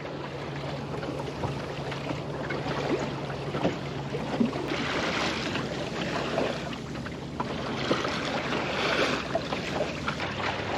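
Mackerel-trip fishing boat out at sea off Plymouth, its low steady engine hum running under wind and water wash with no speech.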